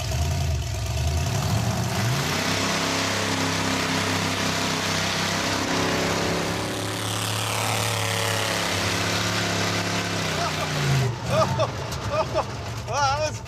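Stubby Bob's car accelerates down a dirt drag track, its engine roaring steadily and climbing in pitch through the gears, close and loud throughout, before easing off near the end.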